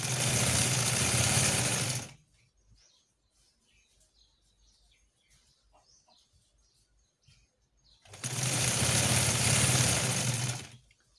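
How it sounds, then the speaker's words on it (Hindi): A sewing machine stitches a fabric plate along a seam margin in two loud, fast, whirring bursts, each about two to three seconds long, separated by a quiet pause with faint bird chirps in the background. "हम सिलाई का मार्जिन रख के ऊपर सिलाई लगाएंगे, ताकि ये प्लेट इसी साइड पे बैठा रहे"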